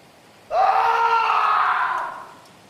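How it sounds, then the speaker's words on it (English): An animated dinosaur story character gives one long, loud scream of agonizing pain, a sustained anguished wail about two seconds long that fades out at the end. "Geoffrey screams in agonizing pain as he bleeds to death in Muldoon's arms"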